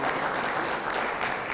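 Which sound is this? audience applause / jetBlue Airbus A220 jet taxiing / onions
audience applause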